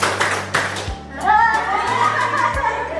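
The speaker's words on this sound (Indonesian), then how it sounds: "Tepuk 5, tepuk 4, tepuk 3." Workshop audience clapping in counted patterns, a few sharp bursts of hand claps, with voices and a brief laugh in between, under steady low hum.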